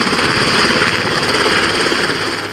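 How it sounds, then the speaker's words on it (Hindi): Loud, continuous roar of a helicopter flying over the sea during a US Marines drill, a steady dense rotor and engine noise that fills the whole stretch without any talk. "शांत समंदर में दहाड़ते हेलीकॉप्टर की ये तस्वीरें"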